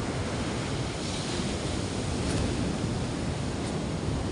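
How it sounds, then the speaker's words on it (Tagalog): Strong typhoon wind blows outdoors as a steady, loud, broadband roar that continues without a break, with no voices. "Medyo malakas-lakas naman ang hangin."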